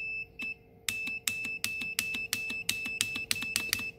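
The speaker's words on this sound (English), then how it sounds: "So if it completes that circuit, it should beep." Repeated short electronic beeps from a multimeter's continuity test on a lawn mower starter solenoid, a steady tone then a rapid string of evenly spaced chirps, close and clear, with no talking.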